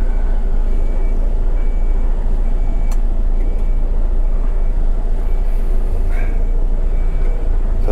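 A semi truck tractor backs downhill across a snowy, gritted parking lot, its diesel engine droning steadily and loudly with a faint beep and brief hiss over the low rumble.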